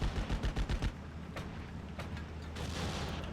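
Heavy machine gun fire in the World War II strategy game Steel Division Normandy 44: a rapid burst of about six thudding shots up front, then scattered distant gunfire and rumbling battle noise.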